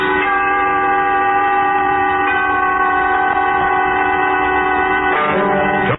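A train horn blares loud and steady over the rumble of a running train, created as a sound effect for a radio drama about the wreck of the Old 97. The horn holds for about five seconds, then its pitch slides as it fades.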